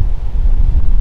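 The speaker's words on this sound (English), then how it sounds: "I know you're gonna be able to hear on the video, it's super windy." Strong gusting wind buffets the microphone outdoors during a deer hunt, a loud, continuous low rumble with no talk.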